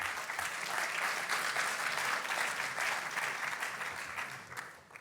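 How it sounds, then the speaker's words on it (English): An audience at an energy conference side event gives a round of applause, dense even clapping that holds steady and then tapers off near the end. "A round of applause, please, for Madame."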